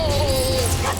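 A dog whimpers in a high, drawn-out whine at a grooming salon, heard against a loud, busy room with a steady hum underneath.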